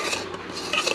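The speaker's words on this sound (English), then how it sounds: "right now you want to stir it very quickly because it does start to set pretty fast" Chocolate peanut butter fudge mixture, melted in the microwave, is stirred quickly in a bowl, giving a steady scraping and clinking of utensil against dish, close and continuous.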